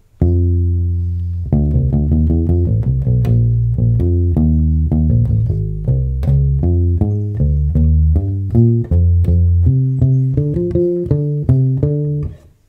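Electric bass playing a bass line, a busy, steady run of short plucked low notes with clear attacks, close and loud, played alone with no talking.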